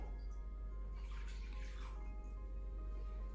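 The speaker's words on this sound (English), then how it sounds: "We pour it into the bowl." Warm water poured into a bowl for khachapuri dough, a soft, brief splashing trickle over a steady low hum, quiet and close.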